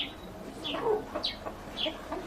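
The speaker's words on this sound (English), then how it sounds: "This is our African chicken." An African chicken clucks close by in a series of short, irregular calls with brief pauses between them, over light background noise.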